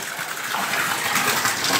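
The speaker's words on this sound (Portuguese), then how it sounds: "Essa água aí sai na gravidade." Water flows out by gravity in a mine tunnel, making a steady, broad rushing gush that stays loud and unbroken throughout, with no talking.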